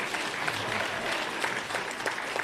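A crowd at a regional political party conference in Greater Johannesburg applauds: a continuous wash of many hands clapping at a distance, steady and moderately loud throughout.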